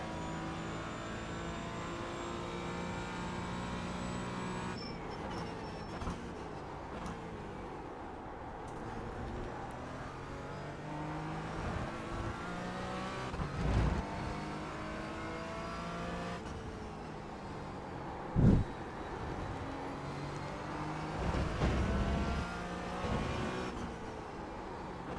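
Porsche race car engine in an esports sprint racing game, droning steadily through the whole stretch with rising and falling revs as gears shift, with a few sharp bumps and no talk over it.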